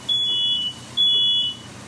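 A smoke alarm set off by smoke from a stove where pork chops and onions are smothering gives two loud, sustained high-pitched beeps, each about half a second long, with a short gap between them and no talking.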